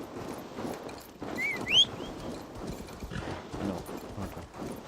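Steady clip-clop of horse hooves walking at an even pace in Assassin's Creed Valhalla, mixed with game ambience and a brief whistling chirp midway.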